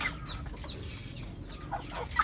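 Chickens cluck softly in short, scattered calls while being fed on a farm where ducks are also kept, with a steady low background rumble.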